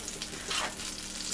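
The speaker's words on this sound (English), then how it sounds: "this butter is starting to bubble here, so I think the pan's getting heated up nicely" Butter sizzles and bubbles in a heating pan before sliced potatoes go in, a short, close, crackling fry with nothing else over it.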